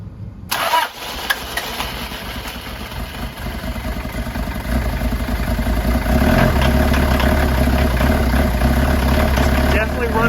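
A freshly rebuilt engine cranks and fires after priming, then runs rough and loud with a heavy low rumble that swells into a high, aggressive idle, close by with clatter throughout.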